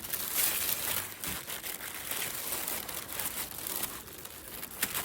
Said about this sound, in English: I'm going to wrap it back up again.